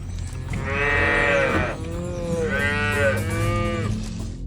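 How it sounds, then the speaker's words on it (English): Calves on a family dairy farm bellowing for their mothers, two loud drawn-out moos close by, one after the other with a short gap between them, and no voices. "The bellowing of calves crying for their mothers."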